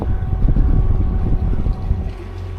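A catamaran under sail moves slowly in about seven knots of light wind, giving a steady low rumble of water and wind noise against the hull, close and moderately loud with no talk.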